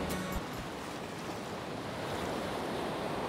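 Ocean waves washing up a beach on Buena Vista Beach in Costa Rica at sunrise, a continuous close roar of surf mixed with wind noise and a few faint clicks at the start.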